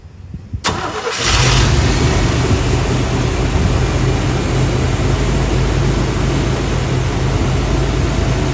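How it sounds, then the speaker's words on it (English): A car engine, fitted with a harmonic balancer that was hammered on and wobbles, cranks briefly and catches. It then settles into a loud, steady idle that runs on without a break. "Start it up, Jamie."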